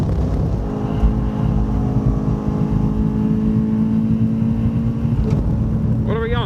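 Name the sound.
race car accelerating out of turn 2 apex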